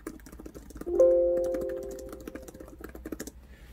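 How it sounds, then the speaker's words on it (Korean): Typing on the soft-coated keycaps of an HP EliteBook 855 G7 15-inch laptop: a steady run of quiet, close key clicks, joined by a faint electronic tone partway through. "타건 소음을 좀 들려드리면"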